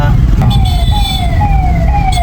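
An ambulance siren wails with a slow falling-rising tone over loud, rumbling traffic noise, fairly close, with faint voices in the background.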